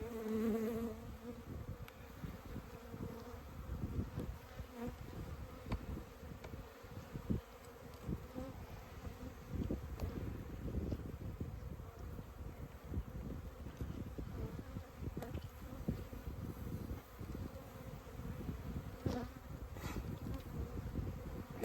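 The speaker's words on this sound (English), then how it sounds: "every frame, as you can see, is just covered with bees" Honeybees swarm over the frames of a hive during an early-season inspection, a dense continuous buzz filling the air, fairly quiet and steady throughout with no voices.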